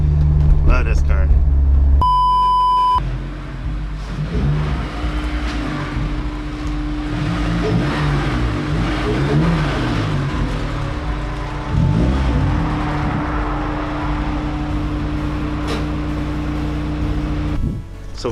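A Honda S2000 sports car's engine drones and revs steadily while driving, with rising and falling tones under continuous road noise, close and fairly loud, and a brief burst of other noise at the start.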